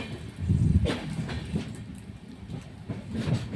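The Rockfort Express rolls at speed near Chennai Egmore, with a steady loud rumble from inside the carriage and faint rhythmic wheel clatter over the rails, no talk.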